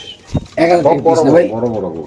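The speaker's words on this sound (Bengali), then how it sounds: "এক জোড়া কবুতর দেখাচ্ছি, 87 নম্বর কবুতরের কাছে" Racing pigeons at a pigeon farm coo close and loud, with a short sound first and then a sustained, rolling low call lasting over a second.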